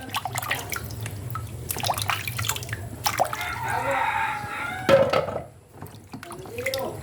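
Sweet potatoes being washed by hand in water after a rainy day, with drips, splashes and sloshing in a basin; a broadband swish of water through the middle and a short splash near the end.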